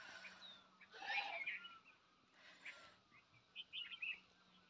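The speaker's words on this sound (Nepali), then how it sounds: "चरा कराइरहेछ" A bird calls near a village home in Nepal, giving faint, scattered high chirps and short tweets in a quiet outdoor setting, with a brief flurry near the end.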